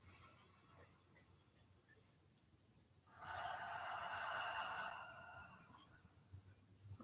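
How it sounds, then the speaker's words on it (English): A single deep breath during a guided meditation, a slow, soft airy inhale lasting about two seconds, close and quiet in a still room, with silence before and after. "We'll take another deep breath together."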